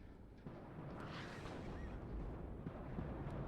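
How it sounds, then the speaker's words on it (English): Artillery fire striking infantry units in the strategy game WARNO comes through as a low, continuous rumble of distant shelling, muffled and steady throughout. "hitting his infantry units with the artillery"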